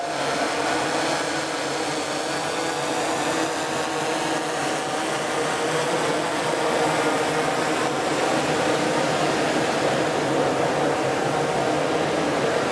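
Steady, loud whirring drone of a camera quadcopter hovering close overhead, a continuous broadband buzz with no pauses and no voices.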